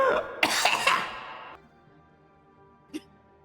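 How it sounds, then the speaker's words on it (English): A sharp intake of breath followed by a short cough, then near quiet with a second brief throaty sound. "Well, that was a gasp and a cough."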